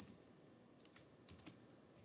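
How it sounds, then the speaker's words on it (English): A word is typed on a computer keyboard during a statistics lab, a short run of five or six faint, quick key clicks in a quiet room with no speech. "I'm going to type in the word divorced"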